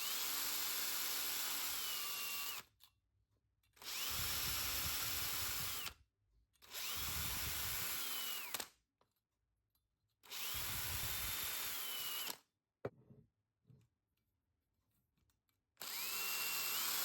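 A rotary wire brush on a power drill spins in short bursts to scour debris out of engine holes and fuel input threads on a Norton Nemesis V8, a steady high whine running for about two seconds at a time with quiet gaps between.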